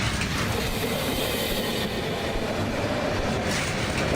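A train carriage rolls on rails inside a horror train video game, giving a continuous dense rumble and rattle of wheels that stays steady and loud throughout, with no talk.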